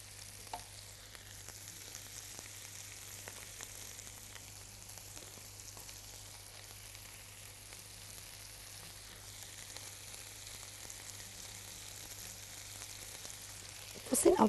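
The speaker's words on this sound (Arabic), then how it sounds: "انا ضفت كده الثوم بتاعي وضفت البصل، سيبهم بس يتشوحوا شويه كده" Garlic and onion sauté in a pan with a soft, steady frying hiss that stays faint and even throughout, with a brief clatter at the very end.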